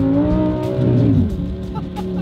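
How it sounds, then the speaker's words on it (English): An Audi R8 with a V10 engine and four-wheel drive accelerates hard, its engine note rising and loud from inside the car, with a slight tire scrub under the revving. "A V10 four-wheel drive R8,"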